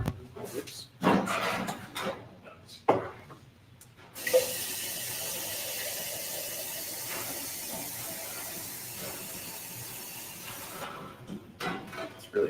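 Water runs from a tap into a container, a steady hissing flow lasting several seconds, preceded and followed by clatter and people talking nearby.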